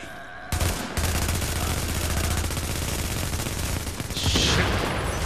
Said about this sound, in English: these guys shoot their shotguns like they're freaking sniping